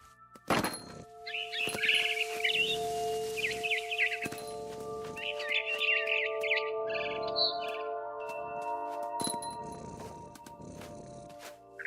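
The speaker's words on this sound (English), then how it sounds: "Then I heard chirping outside my window. It was a barn swallow going back to her nest." A barn swallow chirps near a nest in the video game What Remains of Edith Finch, a series of bright short chirps in bursts over a low sustained musical drone, with occasional soft thumps.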